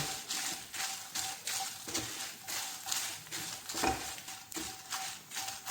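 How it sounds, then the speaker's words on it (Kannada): Pepper and coriander seeds dry roasting in a pan, with steady close scraping and stirring sounds and light rattling of seeds against metal, no talking. "ಈಗ ಈ ಹಂತದಲ್ಲಿ 2 ಟೀ ಸ್ಪೂನ್ ಕೊತ್ತಂಬರಿಯನ್ನು ಹಾಕಿ ಚೆನ್ನಾಗಿ ಹುರ್ಕೊಳ್ತಾ ಇದ್ದೀನಿ."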